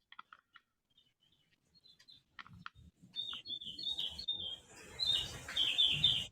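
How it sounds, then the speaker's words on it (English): Birds give high, sharp chirps and tweets, sparse at first, then more frequent over a low rumbling background, some calls fairly close and clear. "sounds like a bird."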